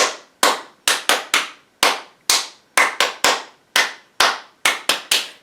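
About fourteen sharp, close hand claps ring out in a sung rhythm of grouped beats during a children's storytime rendition of the Bingo song, each clap crisp and loud with quick decay.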